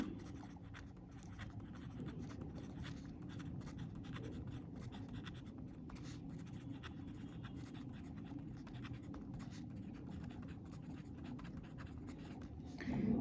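A pen scratching out a geography math solution on paper, quiet close strokes in a continuous scratchy rhythm.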